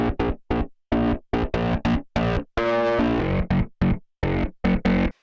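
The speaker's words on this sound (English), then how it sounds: "using G-clip just to really clip things off and get more oomph out of my sound" Harsh, clipped synthesizer notes from an HSS3jb synthesizer, run through a G-clip clipper, pulse in short, choppy stabs separated by silence, with one longer held note in the middle; the distortion sounds gritty and loud.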